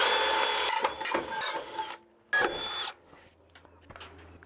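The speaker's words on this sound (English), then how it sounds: "let's get those drilled" A power drill bores holes aboard a navy cadet training ship at sea, heard as several short whirring bursts separated by quiet gaps, close and fairly loud.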